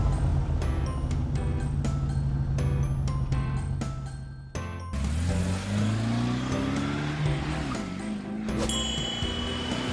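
A toy police car rolls out of its garage amid bright chiming music, and a whirring motor sound rises and sweeps upward in pitch partway through, fairly quiet and continuous.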